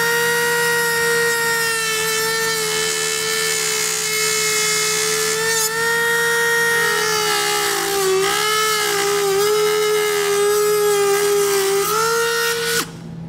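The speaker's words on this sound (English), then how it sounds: "I'm just going to use a Dremel tool to get that material removed." A Dremel rotary tool cuts away vehicle fascia material with a loud, steady high-pitched whine that wavers slightly as it bites into the plastic and cuts off abruptly at the end.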